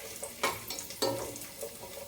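Nuts frying in oil in a pan, a soft steady sizzle with two brief louder bursts of stirring or spoon scraping, close and fairly quiet, no voices.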